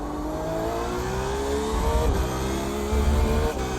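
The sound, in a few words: LMP2 race car passing through the field at Spa, in a racing video game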